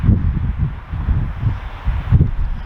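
Wind buffets outdoors in low, rumbling gusts that swell and fade every half second or so, loud and close, with a steady hiss underneath.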